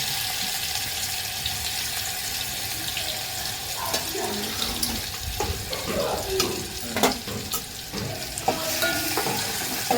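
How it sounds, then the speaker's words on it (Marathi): Cumin, garlic, coriander and ginger dropped into hot oil, giving a steady dense sizzle and crackle with scattered stirring clinks, close and moderately loud, with no talking. "तर तेल आपलं छानपैकी गरम झालेलं आहे. तर मी ह्याच्यामध्ये थोडंसं जिरे टाकून घेते"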